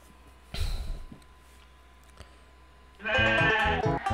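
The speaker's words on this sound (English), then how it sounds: "chase the sheep into the right pens before time runs out" Sheep bleating in the Rugrats Studio Tour video game, two bleats: a brief one near the start and a louder, longer one at the end, with quiet pauses between.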